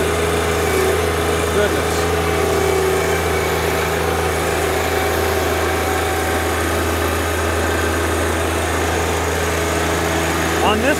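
John Deere 1025R compact tractor engine running at full throttle, a loud steady droning roar close by throughout, with a brief spoken word over it.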